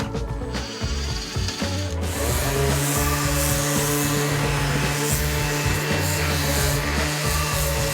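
Wood is worked with a plane or power tool during a narrowboat refit, a loud, rough grinding and rubbing that runs continuously after a brief break, close to the mic with no talk.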